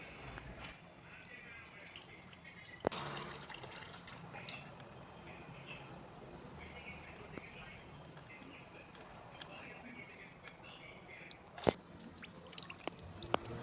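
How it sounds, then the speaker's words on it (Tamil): Used engine oil drains from an Alto K10 K-Series car during a service, a faint steady trickle and splash with a few sharp clicks from the workshop. "ஆயில் ட்ரைன் ஆகட்டும்."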